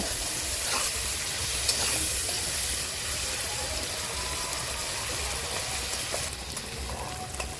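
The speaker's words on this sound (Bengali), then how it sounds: "চিংড়ি মাছ দিয়ে আমি আবার 2 মিনিট ভালো করে নেড়ে চেড়ে ভেজে নেব।" Prawns frying with onions in a pan while being stirred, a steady dense sizzle that runs throughout with faint scraping of the stirring.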